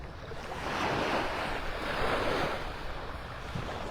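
Calm Gulf of Mexico waves wash steadily onto the beach by Naples Pier in Old Naples, Florida, a continuous soft surf roar that swells and eases, with some wind rumble on the microphone.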